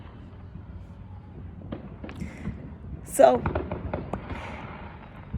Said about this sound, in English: It's just a fun day of fireworks.